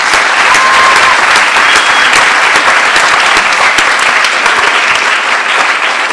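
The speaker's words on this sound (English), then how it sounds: "Let's give them a round of applause." Loud, sustained audience applause at the 2004 Miss Hudson Pageant, a thick continuous roar of clapping from a large crowd filling the hall without pause.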